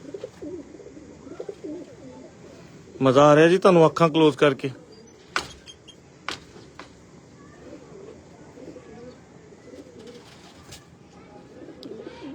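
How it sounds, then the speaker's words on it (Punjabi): Jonsire breed pigeons cooing loudly up close in a brief rhythmic burst of coos, followed by scattered clicks and knocks as someone talks quietly in the background. "ਜੌਂ ਸਿਰੇ ਕਬੂਤਰ।"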